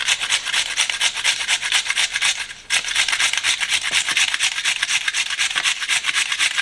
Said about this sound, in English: You can chop it into like slices if you want.